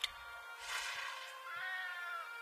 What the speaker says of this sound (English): I really love the sound of this cat